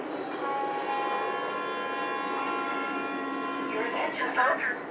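Lionel IC Miami Limited E6 model train sounding a sustained, steady horn chord that holds for several seconds, with a brief burst of chatter near the end.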